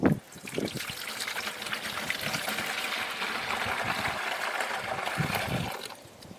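Black walnut sap poured from a collection container into a bucket, a close, steady trickling gush that runs for about five seconds before tapering off, no voices.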